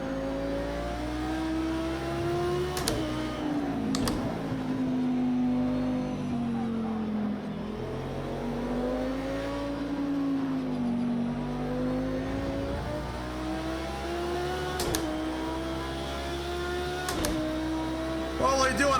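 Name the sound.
race car engine revving in a sim racing video game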